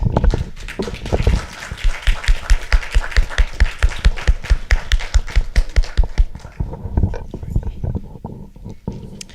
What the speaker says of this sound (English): give you a big hand of applause just for you and all the support that you provide to the students here